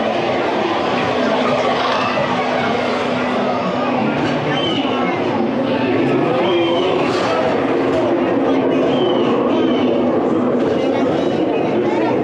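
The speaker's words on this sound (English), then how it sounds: "We're on the train." Disneyland Paris railroad train in motion, a loud continuous rumble and rattle of the carriages heard from on board, with people talking over the ride noise.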